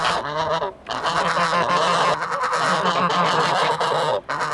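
A noisy flock of geese honks raucously along the Camino de Levante, loud and close, with overlapping calls that continue almost without a break and drop out for only a moment.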